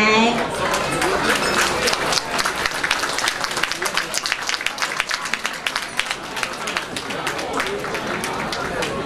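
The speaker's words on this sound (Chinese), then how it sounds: "那我们接下来也邀请各位嘉宾一起用掌声欢迎双方的主婚人" Wedding guests at a ceremony at the Grand Hotel (Yuanshan) applaud throughout as the couple's officiating elders are welcomed to the stage: a dense, steady wash of many hands clapping close by, with voices mixed in.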